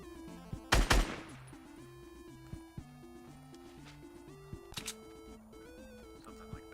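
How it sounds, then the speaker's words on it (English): Two sharp gunshot bursts from Fortnite cut through steady, tuneful game music, one early and one a few seconds later, with no voices. "You're providing covering fire"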